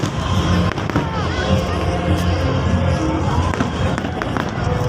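Fireworks at a city festival crackle and pop continuously amid a dense crowd roar, with sharp bangs scattered through the steady noise and voices mixed in.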